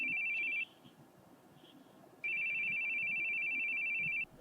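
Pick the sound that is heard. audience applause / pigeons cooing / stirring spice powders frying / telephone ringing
telephone ringing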